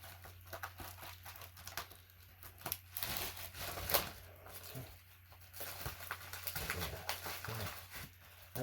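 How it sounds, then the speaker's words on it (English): Scissors snip and tear through the plastic wrapping on a new wrestling belt, giving close, irregular crinkling and crackling with a few sharper bursts and no talk. "use scissors on this one"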